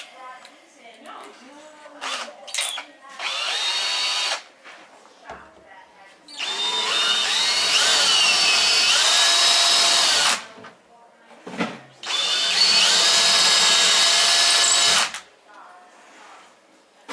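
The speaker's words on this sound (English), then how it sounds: "It's a shitty drill bit that's going to break." A power drill boring with a cheap, weak bit, in several loud, close bursts of whirring separated by pauses, the longer runs lasting about four seconds each, with some talk in between.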